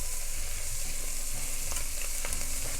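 Flour roux sizzling steadily in a pot for spicy corn chowder, a continuous close frying hiss with occasional faint stirring clicks and scrapes, no voices.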